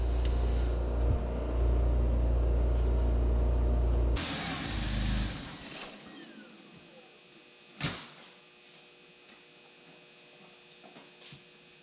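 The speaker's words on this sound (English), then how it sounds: "I'm going to start the car up, hit the brakes a little bit" A BMW E46 with locked front brakes idles with a loud, steady low engine hum for about four seconds, then quietens to a faint idle broken by a sharp clunk and a few light knocks.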